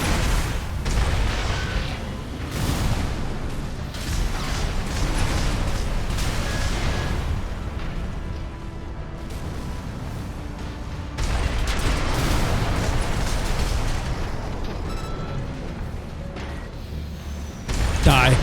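In Armored Core 6, a mech fires on a boss in dense, continuous volleys of booming shots and blasts, loud and layered with explosions throughout, without speech.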